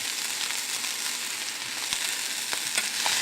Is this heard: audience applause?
no